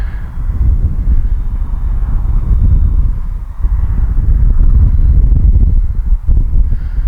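An RC P-51 Mustang warbird model, an 1100 mm Arrows "Detroit Miss", flies at three-quarter throttle into the wind, its steady electric drone continuous and fairly loud, mixed with wind buffeting on the microphone.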